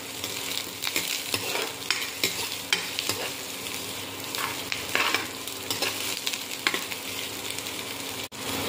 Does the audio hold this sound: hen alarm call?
no